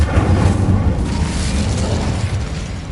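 The Incendio fire spell in Hogwarts Legacy, cast as a loud, dense whooshing blast of flame that holds steady and rumbling for about three seconds with no voices.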